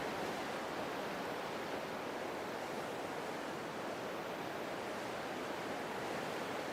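Jhelum river flowing past the bank in Kashmir on a cold morning, a steady, dense broadband rush of moving water that holds evenly throughout with no voices.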